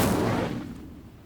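Incendio fire spell cast in a video game: a single close whooshing burst that flares loudly, then fades over about a second with nothing else alongside.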